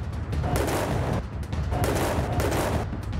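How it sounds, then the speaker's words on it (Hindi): Gunfire shot into the air during Diwali: a dense burst of loud, rough cracks runs through the short span, close and harsh with no talking. "वीडियो में एक ही शख्स 3 बार हवाई फायरिंग करता नजर आया।"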